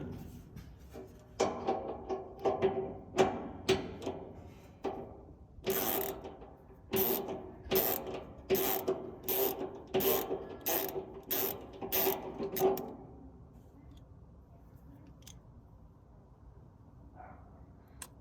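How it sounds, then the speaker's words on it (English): A small socket wrench turning bolts on a natural gas grill island during assembly, bursts of rapid ratcheting clicks in repeated strokes, close and crisp, stopping partway through and leaving quiet handling noise. "I have a socket wrench set that's small enough"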